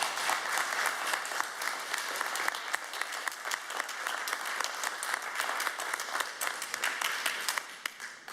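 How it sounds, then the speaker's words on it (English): Steady, moderately distant applause from a crowd at a public zoning board meeting, many hands clapping continuously and evenly until fading slightly at the end. "appreciate if you just do not applaud"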